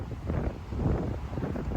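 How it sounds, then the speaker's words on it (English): Steady wind buffets the microphone on a blustery day in Honolulu, Hawaii, as a continuous low rumble with no voices. "It's a pretty windy day on the island."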